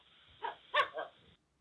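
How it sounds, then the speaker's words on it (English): A dog gives a short burst of barks, two or three close yips over about a second, clear and alone against silence, presented as an animal sound for children to recognise. "Yes, that is a sound made by a dog."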